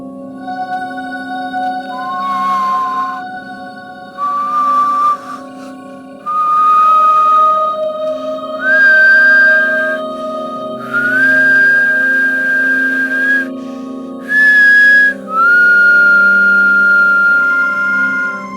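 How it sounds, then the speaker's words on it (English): A video game character in Perry Rhodan whistles a slow tune, six clear sustained phrases separated by short pauses over a quiet, steady ambient hum. "I'm whistling."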